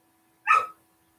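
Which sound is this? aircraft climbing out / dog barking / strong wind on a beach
dog barking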